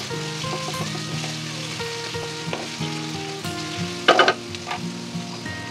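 Onion with bay leaves frying in oil for a jackfruit curry: a steady close sizzle with a brief rattle of stirring near the end, over faint background music.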